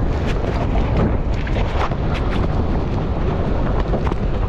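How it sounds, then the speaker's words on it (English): Strong wind blowing hard across the microphone outdoors, a loud continuous roaring buffet with gusty crackles, no talking heard. "The wind won't hit you as much."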